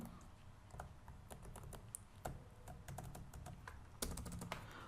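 Someone types code on a computer keyboard, with irregular bursts of quiet, close key clicks and short pauses between them, and no talking.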